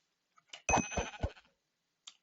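A sheep bleats in the Minecraft video game, one wavering game-sound bleat of about a second at moderate level, followed by a short click-like blip, with no talk over it.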